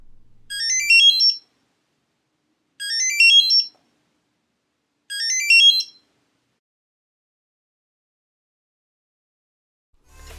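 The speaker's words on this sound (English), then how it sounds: "Pressing the find option on the app will make the tracker beep a few times" A Nonda AIKO key finder tracker sounds three identical bursts of rapid high-pitched chirping beeps, evenly spaced about two seconds apart, clear and close in a silent room, followed by a faint handling thump.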